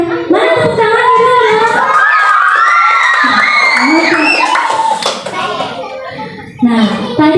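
A classroom of children claps and cheers for the last group at the end of a pattern recognition lesson. Loud, busy applause mixes with shouting young voices throughout, fading slightly near the end.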